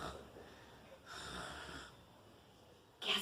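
A voice imitates a dog snoring: two soft, breathy, wheezing snorts spaced about two seconds apart, faint and close, followed by a sharper sound at the very end.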